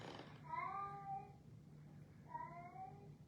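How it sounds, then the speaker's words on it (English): A cat in the background wails twice, two long drawn-out cries separated by a short pause. The cries are moderately faint and carry over a low steady room hum. "you can hear my cat wailing in the back"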